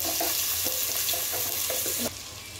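Onions hit a hot pan for a vegetable dish and sizzle loudly, a dense continuous frying hiss with faint stirring scrapes, close by, dropping to a quieter sizzle near the end.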